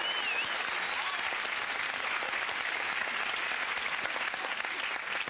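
A crowd claps in a dense, steady round of applause that lasts several seconds at an even level and fades slightly at the very end, with no voices standing out.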